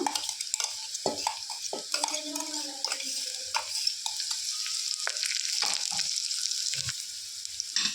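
Fenugreek leaves with a ground mint, ginger, garlic and green chili paste fry in a pan for hotel-style pulao, giving a steady close sizzle with repeated stirring scrapes and light clinks of the utensil against the pot.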